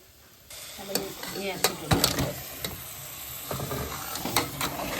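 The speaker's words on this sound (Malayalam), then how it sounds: "അപ്പൊ ചിക്കൻ ഇട്ട് ഇങ്ങനെ ഇളക്കിക്കൊണ്ടിരിക്കുകയാണ്" Chicken pieces stirred and frying in masala in a pan, with scraping spoon strokes and clattering bursts over a steady sizzle, fairly close.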